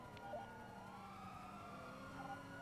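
Police car sirens wail continuously at a steady moderate distance during a chase, with a helicopter nearby; no voices.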